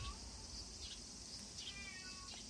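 A cat meows faintly from a distance in a quiet setting, a few thin calls heard over low background noise.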